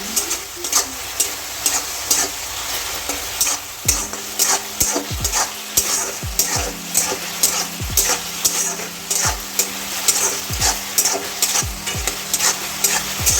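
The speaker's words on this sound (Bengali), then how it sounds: "একটু হাই ফ্লেমে আমি সসটা দিয়ে এটাকে আগে টস করে নিই।" Cauliflower is tossed in sauce in a pan on a high flame, giving a steady sizzle broken by repeated sharp scraping and clanking strokes from stirring.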